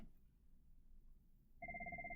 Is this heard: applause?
no